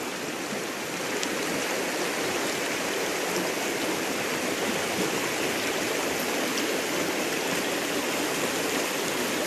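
Clear stream water flows steadily at a quiet natural campsite by Khlong Mueang canal in Nakhon Nayok, a dense continuous rushing and burbling close by, with no pauses and no talking.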